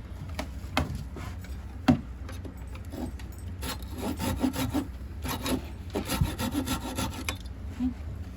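Wood for a chair is hand-sanded in repeated scratchy strokes, irregular in rhythm, close by and moderately quiet.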